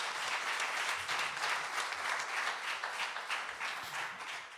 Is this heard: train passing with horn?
no